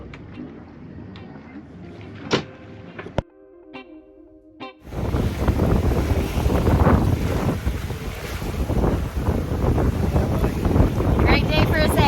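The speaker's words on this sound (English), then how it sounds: "We got about 16 knots of wind." Strong wind roars steadily across the microphone aboard a sailboat under sail in about 16 knots of breeze on the Mediterranean, with water rushing past the hull; a few quieter knocks and tones come before the gusty noise builds and holds loud.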